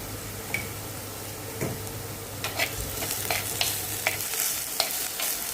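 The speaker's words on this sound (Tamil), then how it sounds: "அதையும் போட்டு நல்லாவே வதக்கி விடணும்" Shallots sizzle and crackle steadily in a frying pan, with scattered clicks and scrapes of stirring, close by and moderately loud, no voices.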